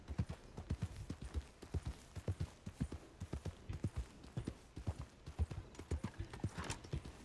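Horse hooves clip-clop steadily in Red Dead Online, a quick, regular trotting rhythm of many close, distinct hoofbeats heard on their own.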